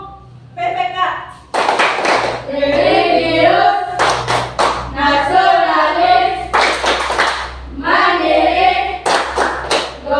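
A classroom group performs the Tepuk PPK clap chant, sharp rhythmic bursts of clapping in short sets spaced between loud chanted words, close and clear.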